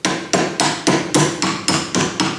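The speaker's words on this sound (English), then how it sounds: "That's why I'm just using a hammer handle." A hammer handle taps the fragile change gears of an Atlas lathe, nine evenly spaced sharp knocks in a steady rhythm, close up with no talking.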